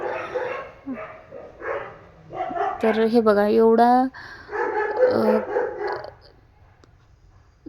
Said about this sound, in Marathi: तुम्हाला कुत्र्यांचा आवाज येत असेल आमच्या गल्लीत माणसं कमी पण कुत्रे जास्त झाले